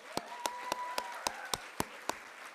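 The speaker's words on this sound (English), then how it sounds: "So I guess for that she deserves an applause from our side." Slow, sparse, evenly spaced claps, about eight in total, sound faintly after a student dance performance, with a thin steady tone lingering underneath.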